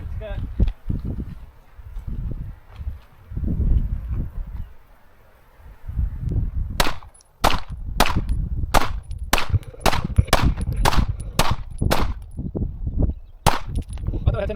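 A Shadow Systems CR920X compact pistol fires about a dozen sharp shots outdoors, close and loud in a steady paced string, with someone talking before the shooting starts.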